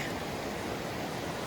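A creek on a high hiking trail rushes in a steady broadband wash of flowing water, close and continuous for a brief moment with no voices.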